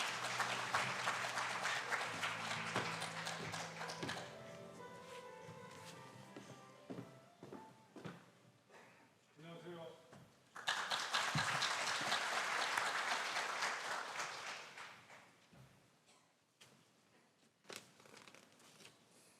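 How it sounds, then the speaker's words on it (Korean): A crowd at an opening ceremony applauds as a speaker is welcomed to the podium. A loud burst of clapping dies down, scattered taps and footsteps follow, and then a second strong wave of applause rises and fades. "따뜻한 박수로 김명준 소장님을 환영해 주시기 바라겠습니다"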